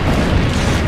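A cannon blast in the video game Assassin's Creed, a loud, sustained deep boom with broadband rumble filling the short moment, no talk over it.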